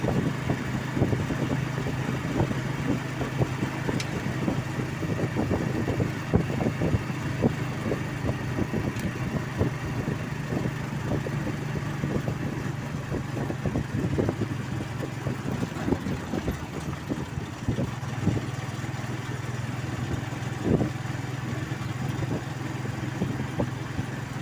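Roadside traffic near a bridge on the way to a market, with a motorcycle engine arriving among other vehicles, a steady low rumble with scattered knocks and passing engine noise throughout.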